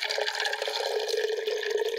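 Water is poured into a container through a small green funnel during a home decor craft with Valentine's candy, a continuous close gurgling trickle with no talking.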